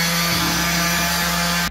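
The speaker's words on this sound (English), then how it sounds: "Little sander." A small electric sander running directly on solar panel power, with no inverter or batteries, gives a steady, close motor hum and buzz throughout.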